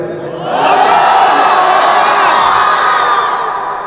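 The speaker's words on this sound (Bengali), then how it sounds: "দেন শেষ তাকবীর দেন একটা" A large gathered crowd shouts the takbir together, one loud sustained collective roar of many voices that swells and holds before fading slightly.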